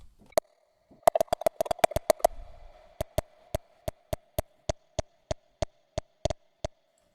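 A sliced sample triggered in Ableton Live 11 with hybrid reverb plays as sharp, pitched clicks over a sustained ringing tone, first in a fast irregular flurry, then as evenly spaced hits with short decaying tails.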